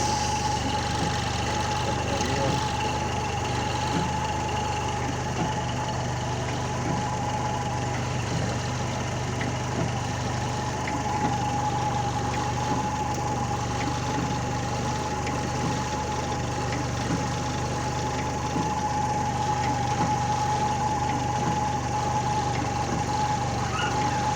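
A car engine idles at 700 RPM with a steady, even hum and a constant high whine, unchanging and close for the whole stretch.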